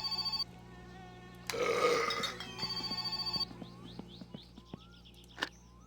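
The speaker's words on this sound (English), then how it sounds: "oh, phone's ringing." A telephone rings in the video game My Summer Car, with repeated short electronic ring bursts at the start and again mid-clip, mixed with a loud burp-like noise and other game sounds.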